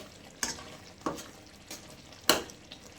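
Gojju frying in oil, with soft background sizzle broken by four sharp stirring scrapes spaced about half a second to a second apart, close and moderately loud.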